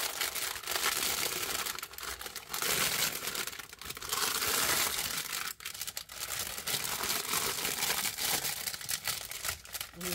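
Parchment paper being handled and crinkled while preparing to dehydrate kimchi, dense continuous rustling and crackling up close, briefly dipping before resuming.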